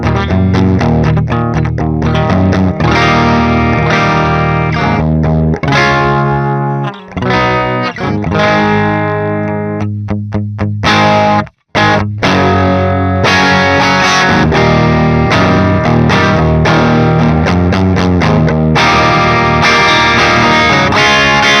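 Electric guitar with a humbucker pickup run through the Neural DSP Gojira amp plugin, set to a light crunch with a warm tube-like edge, playing loud, continuous chords and melodic lines with a brief pause partway through.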